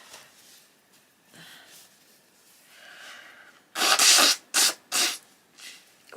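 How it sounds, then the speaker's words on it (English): Someone blows their nose close by in one long, loud honk followed by two shorter blasts, after quiet breathing and rustling. "I just got to blow my nose again"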